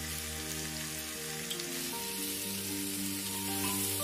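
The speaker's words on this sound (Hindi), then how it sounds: "फ्लेम को लो रख के सब्जियों को भून लेंगे।" Mixed vegetables with turmeric and salt fry gently on a low flame, a soft continuous sizzle like light rain, with a steady tonal hum running underneath.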